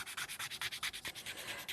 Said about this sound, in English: So you can clean it in exactly the same way with sandpaper.